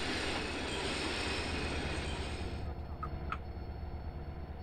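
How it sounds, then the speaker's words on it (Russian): Train running along railway tracks in GTA San Andreas, a steady loud rumble of wheels and carriage noise that continues throughout, with a couple of brief sharp clanks near the end. "ЖД-пути, когда поезд едет."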